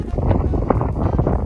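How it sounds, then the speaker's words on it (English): Strong wind buffets the microphone on a hilltop reached by a long climb of stairs, a steady loud rumbling roar with gusty swells that runs the whole time and carries no voices. "It's so windy."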